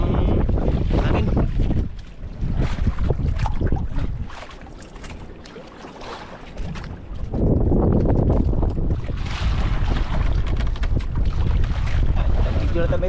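Strong wind roars across open sea aboard a small boat, a loud, continuous buffeting rush that dips briefly in the middle before surging back, with no voices.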